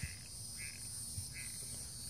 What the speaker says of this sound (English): oh, the frogs are coming out.